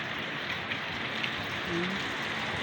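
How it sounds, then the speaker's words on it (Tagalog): Steady rain pours down outdoors, a dense, even hiss of drops on surfaces that continues without break, moderately loud and close. "Yan ang ulan"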